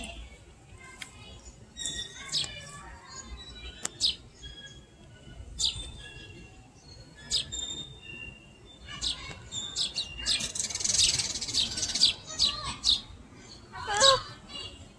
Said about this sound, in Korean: 참새네. 참새인데 새끼야.